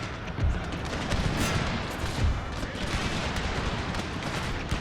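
Musket volleys in a Total War battle set in the Thirty Years' War, a dense continuous crackle of many shots fired together, loud and sustained with no talk.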